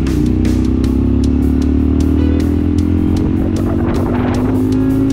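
A 15-horsepower Honda Varadero 125 motorcycle engine labours steadily uphill, a loud, continuous drone with rising pitch as it pulls, close to the rider with some wind rush.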